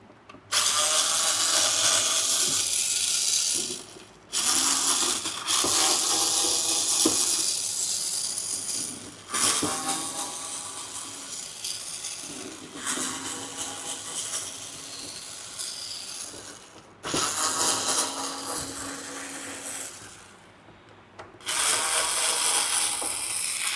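A screwdriver or small power driver backs out screws from the back cover of a television, a loud whirring, ratcheting drive in repeated bursts separated by short pauses.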